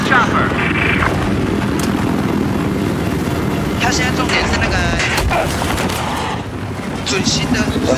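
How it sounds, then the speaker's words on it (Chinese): A helicopter flies in the Battlefield 4 video game, a loud, continuous rotor drone with mechanical whine and some sharp game effects layered over it, while a person talks over the gameplay. "准新的直升机啊"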